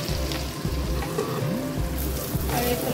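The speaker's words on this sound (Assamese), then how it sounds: "এইফালে ভাজিছোঁ পাৰ মাংস" Partridge meat frying in hot oil gives a steady, close sizzle that runs without a break, with faint stirring scrapes underneath.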